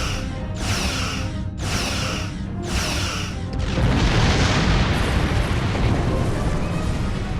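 Starship weapons firing in the Star Trek Online space combat game: three evenly spaced heavy pulsing blasts, then a sustained roaring barrage with booming impacts, loud and close, no voices.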